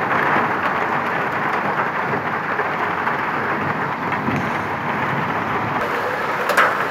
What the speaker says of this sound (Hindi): ये अभी कितने बड़े बड़े ओले गिर रहे हैं